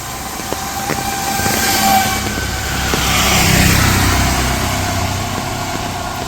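On a wet village road on a rainy day, a vehicle swells past, its engine hum rising to a broad whoosh before fading back into the steady background of rain.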